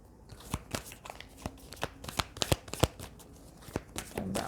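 Tarot cards being shuffled by hand, a steady run of crisp riffling and slapping card sounds at close range, with no talking.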